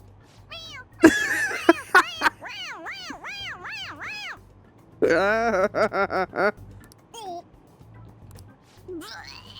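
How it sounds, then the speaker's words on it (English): Morgana, the cat character in the video game Persona 5 Royal, lets out a series of loud, rhythmic meows in two bursts with pauses between them, close and clear, followed by a final short meow. "I beg you, please stop making cat noises."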